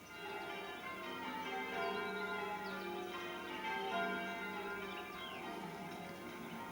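Church bells ring at Kenninghall Church in overlapping peals, a steady layered chiming that carries softly from a distance.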